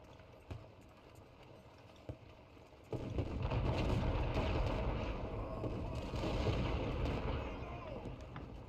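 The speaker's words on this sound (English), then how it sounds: "I'm gonna have the artillery start opening up." Artillery in a Civil War battle game opening fire near Brock Road: a few sharp isolated reports, then a dense, sustained rumbling barrage that rolls on for several seconds.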